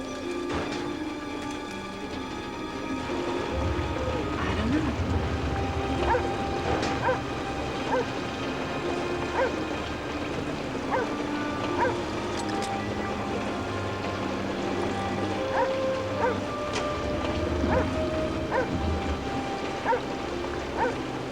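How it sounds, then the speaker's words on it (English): A neighbour's dog barks and whimpers repeatedly in short yips and whines, moderately close, over a steady background hum with no talking. "Is that your dog? No, my neighbor's."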